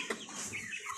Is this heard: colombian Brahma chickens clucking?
yes